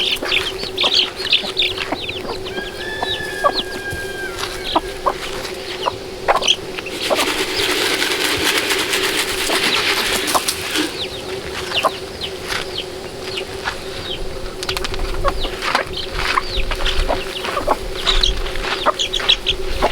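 Poultry flock at feeding time on a hot day, chickens clucking and chattering in scattered bursts with higher calls from other fowl, alongside a steady hum and some rustling, close and lively throughout.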